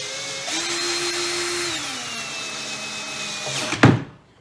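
A power drill bores a 5.5mm hole for 6mm bolts during a seat box trolley build, a steady whining motor hum that shifts pitch partway through, ending with a loud clunk as the drill stops.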